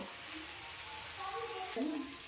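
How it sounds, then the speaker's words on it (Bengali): Papaya, carrot and potato pieces sauté in a pan with a soft, even sizzle, faint and low, and a brief clatter near the end. "তো এটা দিয়ে আগে আমি কিছুটা সময় কষিয়ে নেব"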